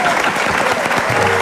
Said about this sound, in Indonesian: Lu tepuk tangan dong